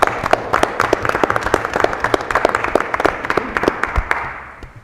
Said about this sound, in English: Wow, that's a nice applause.